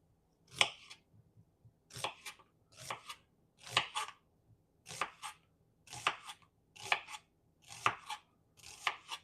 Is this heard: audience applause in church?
no